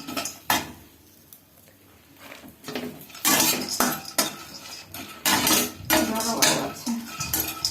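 Pumpkin seeds and walnuts are stirred in a warming pan, with irregular scrapes and rattles of a spatula against metal coming in close bursts between quieter pauses.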